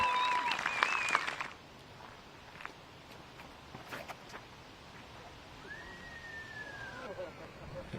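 Spectators clapping and cheering at an outdoor disc golf tournament, a short burst of applause that fades after about a second and a half, followed by quiet ambience with a faint whistle-like sweep and scattered small sounds.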